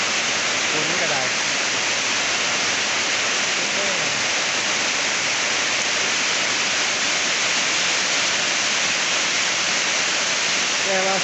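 Steady, dense rain hiss fills the whole stretch at a constant level, close and loud, with faint voices occasionally surfacing beneath it.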